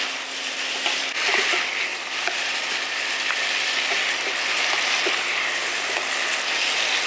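Marinated pork fries in a pan with tomato and onion, giving a steady, even sizzle under scattered light clicks and scrapes of stirring, with no talk.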